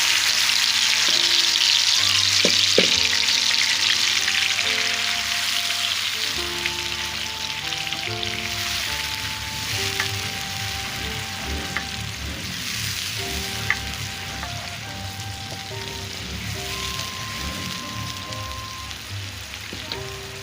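A tomato, onion and green chili paste with masala frying in a pan, giving a continuous hissing sizzle that swells and settles over about twenty seconds, close and steady, with faint tonal sounds in the background and no talking.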